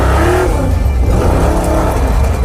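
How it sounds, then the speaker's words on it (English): A loud V8 engine holds high RPM in a sustained, roaring rev with a rough, pulsing edge as the rear tires struggle to spin, recorded close to the car. "I bet it'll do a burnout if you give it enough RPM so it doesn't wheel hop"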